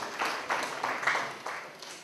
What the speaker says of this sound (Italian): Beh, l'applauso ci vuole!